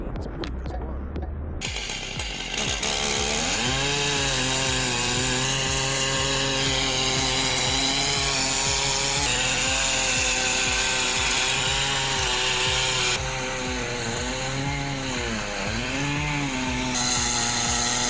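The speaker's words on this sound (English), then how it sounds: "With an MS-880 and a 60-inch bar, that oak log is basically a full dining table coming down." A Stihl MS-880 chainsaw with a 60-inch bar cuts into an oak log. The engine howls loud and close the whole time, dipping in pitch several times as the chain bogs into the wood and then revving back up.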